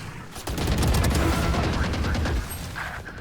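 Sustained rapid gunfire in the Valorant video game: dense, loud overlapping bursts of shots that run nearly without pause, with no voices heard.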